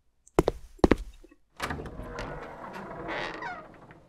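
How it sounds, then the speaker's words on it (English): In a Unity horror game, a door clunks twice as it unlocks, then swings open with a longer creaking, grinding rush, close and fairly loud, no voices. "And the door opens."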